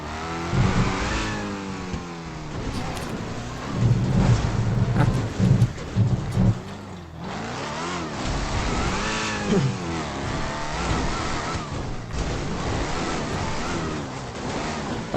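A modified gang vehicle's engine revs repeatedly during a test run, loud and close, with rising and falling roars and rough low rumble throughout, no voices over it.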